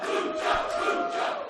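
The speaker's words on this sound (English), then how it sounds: "Listen to this crowd getting behind Pentagon" Wrestling crowd at the Benton Convention Center roaring and chanting in support of Pentagon Jr., a dense, loud, sustained wall of cheering voices with no single speaker standing out.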